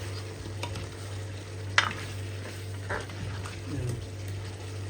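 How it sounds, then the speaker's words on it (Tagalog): Meat goes into a pan of softened carrots and potatoes for adobo, and quiet sizzling and stirring follow, with faint scrapes and a sharp clack over a steady low hum. "Once na lumambot na yan, pwede na yung karne."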